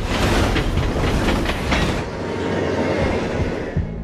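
Train rolling along rails in an action film's runaway-train sequence, a loud continuous rumble with rhythmic clatter of wheels and faint squeal, steady throughout with a slight dip midway.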